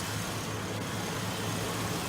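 A 2002 Chevy Avalanche 1500 4x4 with a 5.3-liter V8 runs at a steady idle, an even rumbling drone heard up close with no talking.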